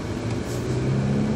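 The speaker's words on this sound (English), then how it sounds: "Let's slowly roll onto the throttle." A 2018 Lexus LS 500 sedan accelerates gently onto a highway, its engine note a steady, close mid-low drone with a faint whir, rising slightly in loudness as throttle is applied, with no talking.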